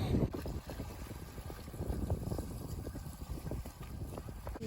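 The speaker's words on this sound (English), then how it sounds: "It's very windy" Strong wind at New Brighton Beach, Liverpool, England, buffets the microphone in a continuous low roar, rising and falling in gusts, with no voices.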